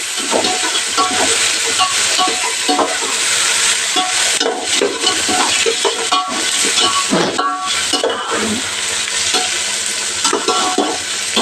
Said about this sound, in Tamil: இதுவும் கொஞ்சம் இந்த எண்ணெயிலே நல்லா வதங்கட்டும்